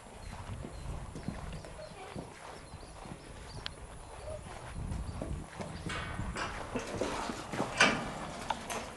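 Hooves clop and shuffle at feeding time in a stable, soft irregular steps and thuds with rustling, faint at first and growing busier toward the end, a voice speaking quietly in the background.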